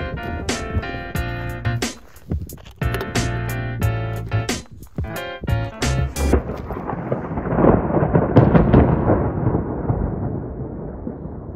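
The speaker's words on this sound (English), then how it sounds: "That clap of thunder I got on camera was probably the worst of it." Thunder clap during a mountain storm on San Gorgonio: after several seconds of tonal music, a loud, deep rolling rumble swells and lingers, slowly fading toward the end.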